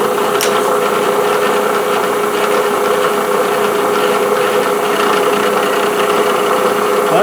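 A Bridgeport milling machine starts a cut through a bandsaw kerf on a jig for a pin router, giving a loud, continuous mechanical hum with steady tonal whine throughout.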